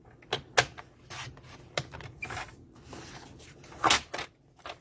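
A Stampin' Up! paper trimmer slices and scores cardstock in a series of short, crisp clicks and sliding strokes, close and quiet, with a few sharper snaps spaced irregularly.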